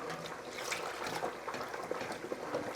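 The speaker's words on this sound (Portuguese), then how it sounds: "Depois que eu pus o fubá, eu despejo a água fria." Cold water is poured onto cornmeal (fubá) in a kitchen, giving a steady, close trickle of liquid for a few seconds with no talking over it.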